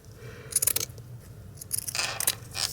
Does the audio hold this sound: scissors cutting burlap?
yes